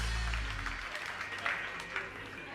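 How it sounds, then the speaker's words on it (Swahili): A studio audience at the Churchill Live comedy show in Nairobi breaks into steady clapping that fills the room after a brief low voice, sustained and fairly close. "Jipigie makofi."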